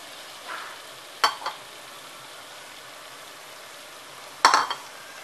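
Prawns for a biryani sizzle quietly in a pan with a soft, steady frying hiss. Two sharper scrapes and clanks of a stirring spoon break through, and no one speaks.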